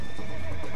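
Horse in the video game Red Dead Redemption giving a loud, close whinny with faint hoof clip-clop beneath, short and without talk.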